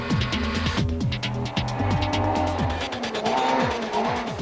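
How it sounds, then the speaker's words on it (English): Volkswagen Polo rally car racing flat out through a rally stage at the 2005 Osram Rally, its engine revving hard with rapid gear changes and rising, falling pitch, loud and close throughout. "The Polo really flying along, Keen and Hodgson earning their wings."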